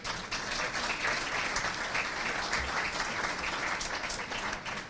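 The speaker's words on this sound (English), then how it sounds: "So great round of applause for Eversource." Sustained applause from a crowd at a city State of the City event honoring a sponsor, steady and dense throughout with no pauses.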